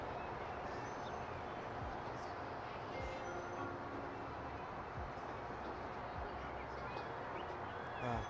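A train runs through scenic countryside in the video game Transport Fever 2, a steady rumbling roll of wheels and carriages continuing at an even level throughout.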